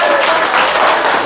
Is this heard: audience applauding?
yes